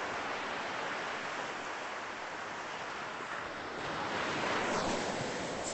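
Ocean waves washing onto a sandy beach at sunrise in Mexico, a steady broad roar of surf with rising wash near the end, mixed with some wind buffeting on the microphone.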